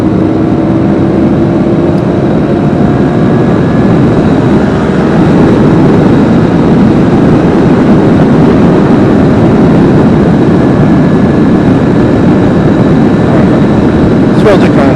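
A 1980 Vespa P200E with a 200cc two-stroke low-compression engine runs steadily while riding on New England roads, a loud continuous engine drone with wind rush lasting throughout.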